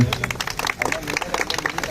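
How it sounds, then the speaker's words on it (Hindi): Applause from a crowd on a film set, steady clapping running beneath someone speaking. "तालियां।"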